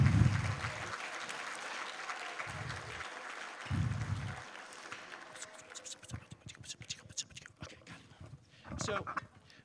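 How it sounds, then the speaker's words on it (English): Audience at a middle school band concert clapping, a thin, uneven patter of applause that rises and fades in bursts, with a person talking around it and some low bumps nearby. "So give them a round of applause"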